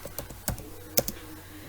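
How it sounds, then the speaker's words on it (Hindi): Someone types an SQL command on a computer keyboard, a handful of quick, close key clicks in an uneven rhythm with no talking. "मान लीजिए हम कमांड लिखते हैं"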